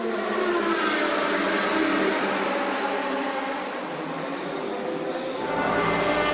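The Toyota number 7 race car, running on worn tyres in a 2013 World Endurance Championship race, roars past on track with a loud, continuous engine drone that dips slightly midway and swells again at the end.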